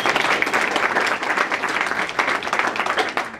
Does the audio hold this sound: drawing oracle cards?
no